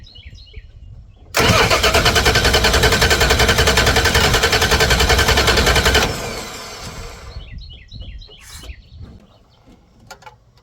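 A worn, high-mileage 3.9 V6 cranks over steadily for about five seconds during a compression test. The starter churns in a loud, even rhythm, then stops abruptly.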